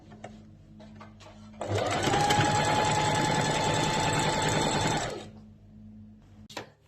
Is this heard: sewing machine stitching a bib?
yes